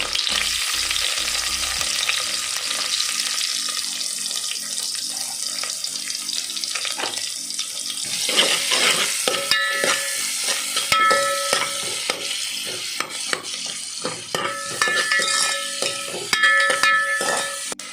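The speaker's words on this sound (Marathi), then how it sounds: "आता कानो घालूया बारीक चिरलेलं" Finely chopped onion fries in oil in a pan for a pomfret fish curry. The sizzle is steady and loud, with stirring scrapes and clatters that grow busier partway through.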